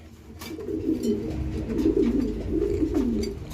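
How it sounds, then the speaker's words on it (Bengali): A Pakistani pigeon at a pigeon market coos in soft, low, repeated throbbing phrases. It sounds close and steady, with a faint rustle around it. "এইটাও পাকিস্তানি কবুতর"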